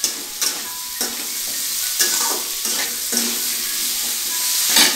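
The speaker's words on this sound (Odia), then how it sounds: "ଦେଖ ପିଆଜ ଦେଉଛି, ସାଙ୍ଗେ ସାଙ୍ଗେ ଟିକେ ପିଆଜ ଟିକେ ନରମ ହେଇଯିବ।" Onions frying in a pan with salt while being stirred, a steady close sizzle with scraping strokes of a spoon roughly every second.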